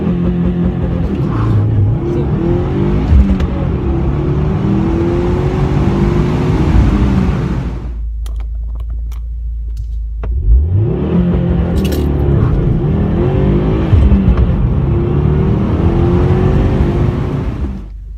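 A 2018 Subaru WRX STI launching hard from a stop, with loud engine revs climbing through the gears, a brief pause during a shift, then more strong acceleration; the engine is heard up close and alone.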